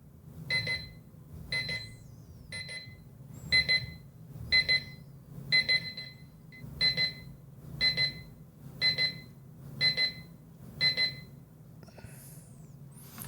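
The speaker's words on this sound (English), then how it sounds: "demonstrate what the alarm sounds like when the alarm goes off" A large-digit WiFi atomic-time LED clock's alarm going off: repeated bursts of high electronic beeping in a steady rhythm, about one burst every second, loud and clear over a faint low hum.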